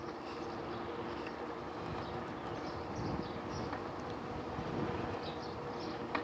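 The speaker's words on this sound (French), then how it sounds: "là, il y a du vent" Wind blowing outdoors during an amputee's COPD session, a steady broadband rush with gusts that swell toward the end, no speech.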